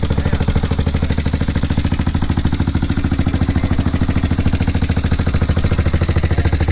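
A Honda TRX400ex ATV engine idles close up, a steady, fast, even thumping beat with mechanical clatter continuing throughout.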